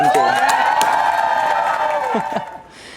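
A happy crowd in Rice Lake, Wisconsin cheers and whoops loudly with rising shouts, the roar sustained for nearly three seconds before fading out.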